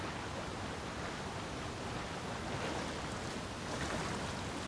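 A waterfall in The Legend of Zelda: Tears of the Kingdom rushes as a steady, even roar of falling water. It is quiet, with no voices over it.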